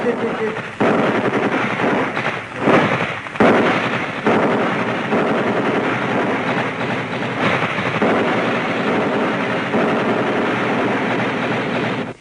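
Sustained bursts of rapid automatic gunfire crackle loudly and almost continuously in a Pashto television drama, with brief gaps between volleys.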